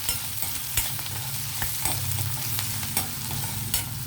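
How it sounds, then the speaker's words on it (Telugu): Onions frying in a pan with a little coriander, a continuous close sizzle punctuated by regular spatula taps and scrapes every second or so. "కొంచెం కలర్ మారే వరకు ఉల్లిపాయలు వేగనిద్దాం."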